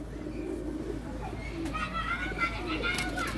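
Pigeons coo softly amid a loft of about thirty birds, low rolling calls under a steady background hum, with faint children's voices and chirps rising toward the end.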